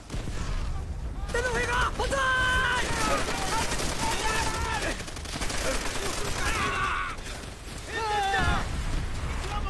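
Dense, continuous battle gunfire from the World War II shooter Call of Duty: World at War, loud throughout, with shouted voice commands layered over the shooting.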